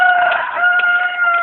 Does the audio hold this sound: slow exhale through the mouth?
no